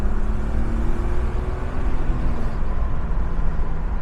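1999 BMW E36 M3 five-speed convertible accelerating in third gear, with a steady, loud low engine drone and road rumble heard from inside the car.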